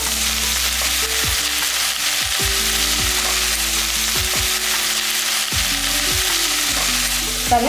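Cut pieces of white pumpkin (ash gourd) frying in a pan for a buttermilk curry, loud continuous sizzling with regular clattering spatula stirs and scrapes, no voices present.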